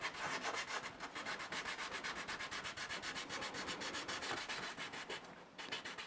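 Wet sandpaper rubs rhythmically over a wood and resin pendant in fast, even back-and-forth strokes, close and continuous for the whole stretch with only a brief pause near the end.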